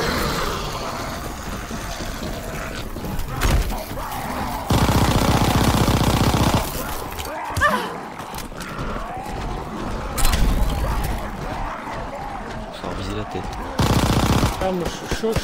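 Rapid automatic gunfire from an SVT rifle in Call of Duty WWII Zombies, loud bursts in the game mix with a break near the middle and a final burst, alongside other game effects and engine-like rumble.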